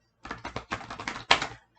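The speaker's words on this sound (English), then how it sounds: "I'm gonna take this oracle deck and I'm going to shuffle" An oracle card deck being shuffled by hand, a quick run of close papery riffles and taps in short bursts, ending with a firmer snap.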